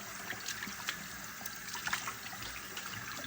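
Catfish fillets rinsed in water, with a continuous splashing, trickling wash and small sloshes, close and fairly quiet, with no talking.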